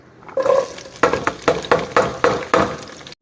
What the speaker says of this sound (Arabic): راح احمس اللحم كلش زين واضيف عليه البصل